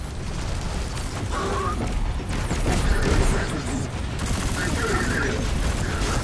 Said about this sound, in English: I just need to shoot in the general direction of an enemy and the auto-aim will point at where I need to hit.